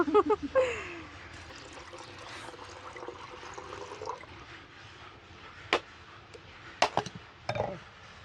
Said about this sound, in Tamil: நாங்கள் தேங்காய் உடைக்க போறோன்னே